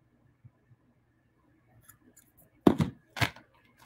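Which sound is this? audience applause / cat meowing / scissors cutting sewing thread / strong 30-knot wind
scissors cutting sewing thread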